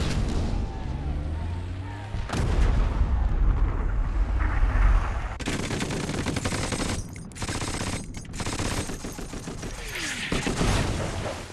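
War documentary soundtrack with loud, dense artillery blasts, booming explosions and rattling gunfire, nearly continuous for the whole stretch with brief sharp breaks.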